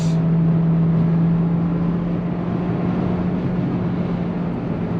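2024 Volkswagen Taos in sport mode and seventh gear, heard from inside the cabin as a steady, even engine and road drone with a low hum that holds throughout.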